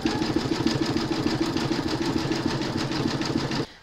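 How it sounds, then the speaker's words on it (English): An embroidery machine stitching an in-the-hoop medical rescue pouch panel, a steady rapid mechanical whirring and needle rhythm up close and loud, running alone for several seconds before stopping abruptly. "Pop your hoop into your machine and stitch color 7."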